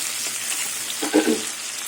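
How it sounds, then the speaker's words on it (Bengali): Chopped onions frying in a pan for a taro-stolon curry, a faint steady sizzle with a few brief louder stirring scrapes in the middle. "এবার পেঁয়াজটা ভেজে নেবো"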